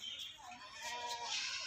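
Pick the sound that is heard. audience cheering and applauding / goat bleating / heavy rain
goat bleating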